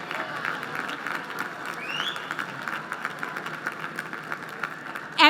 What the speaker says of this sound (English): give them a round of applause for all they've done to get you to where you are today